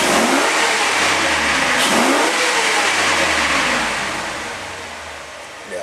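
A 2004 Chevy 8.1-litre 496 big-block V8 in a Suburban revs up to 5000 rpm in several loud, close sweeps, then settles back toward idle.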